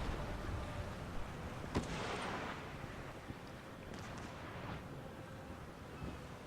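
Cannon fire rumbles through a naval battle in the video game Empire: Total War, with a continuous broadband roar and a few sharper booms standing out, moderately loud throughout.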